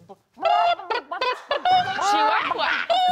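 A person imitates a hen with a run of short, clucking, bawking calls, close and loud, rising into a longer squawking stretch before a final cluck.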